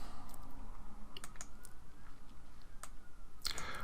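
A computer mouse clicks softly while software is being used, the clicks coming in scattered light taps over a faint room hum, near and quiet, with a few keyboard-like ticks and no talk.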